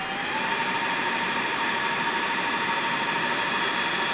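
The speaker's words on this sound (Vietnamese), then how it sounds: "sau đây mình sẽ quay thử cho các bạn nghe cái tiếng động cơ của nó rất là êm" A 48V 1500W brushless gear reduction motor runs at full speed, giving off a steady, even whirring hum with a faint airy rush, close and unchanging throughout.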